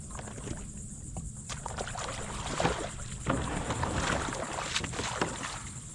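A kayak paddled toward a lakeshore campsite, with soft paddle splashes and water lapping against the hull under steady wind noise, fairly close and moderate in level.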